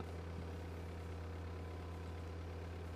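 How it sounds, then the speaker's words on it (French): A construction vehicle engine in Construction Simulator 2015 holds a steady, loud low rumble throughout, idling with only slight shifts in revs and no voices. "il y a le régime du moteur qui tout simplement change à chaque fois qu'on effectue quelque chose"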